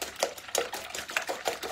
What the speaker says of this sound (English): I'm going to give my eggs a little beat